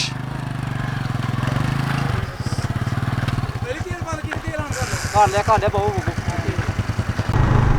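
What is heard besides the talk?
motorcycle engine while riding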